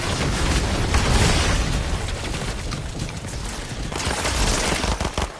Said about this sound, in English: Oh, someone's here. They're shooting me.